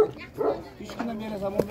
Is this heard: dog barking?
yes